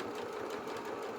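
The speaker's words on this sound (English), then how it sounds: "I'm sewing forward until we get off the collar." A sewing machine stitches steadily forward along the collar of a sewn waistcoat for a doll, giving a continuous, even, close-up mechanical whir with no pauses.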